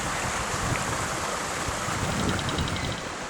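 Rushing water pours steadily through a couple of pipes beneath a bush track crossing near Waroona, a loud, close, unbroken roar with a faint ticking frog chorus just audible above it.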